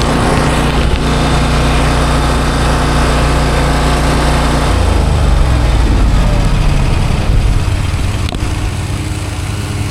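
A lawn mower engine runs loud and close, its steady drone continuing throughout, with the pitch shifting slightly midway.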